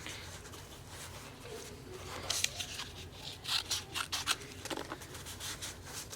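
Scissors snip paper in a short run of quick cuts, close and fairly quiet against a soft room background.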